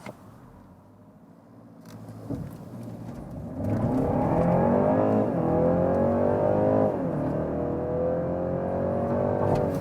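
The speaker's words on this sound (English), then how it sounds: "we more heard the combustion engine here now, but there was still the electric drive boost" A BMW 330e plug-in hybrid's combustion engine, boosted by its electric drive, starts low and idling, then surges into a loud, hard launch-control acceleration, revving up through rising gears close by.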